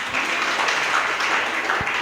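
Audience clapping at a religious gathering in Dhar, Madhya Pradesh, a dense, fairly loud wash of many hands applauding together, with a couple of low thumps near the end.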